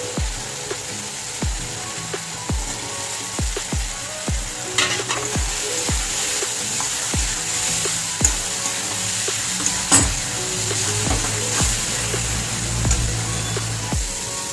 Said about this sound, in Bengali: এবার আমি আলুটা দিয়ে কষাবো একটু